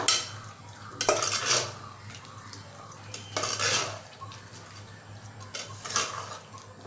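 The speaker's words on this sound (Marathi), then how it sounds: "दोन टोमॅटो आणि कोथिंबीर यांची पेस्ट बनवून घेतले ती घालूया मिक्स करूया" A tomato and coriander paste is stirred into chicken biryani masala in a metal pot, with several bursts of clattering spoon-on-pot scraping over a low background hum.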